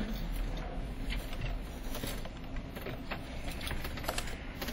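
Steady clicking of keys on a computer keyboard as a name is typed, close and continuous with a scattered, uneven rhythm over a low hum.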